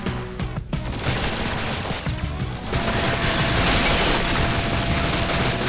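Enemy gunfire in the video game Shadowgrounds Survivor: a dense, loud, continuous fusillade of rapid shots with booming impacts that intensifies during the second half, with no talking.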